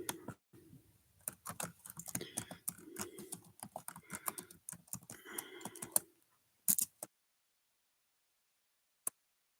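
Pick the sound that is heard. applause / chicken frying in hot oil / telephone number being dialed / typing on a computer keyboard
typing on a computer keyboard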